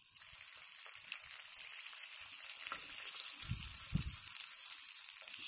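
Stale-bread pasta fries in a pan while it is stirred, giving a steady, faint hiss of sizzling with a few soft low thumps from the stirring.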